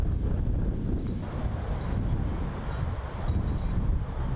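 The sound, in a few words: strong wind on a disc golf course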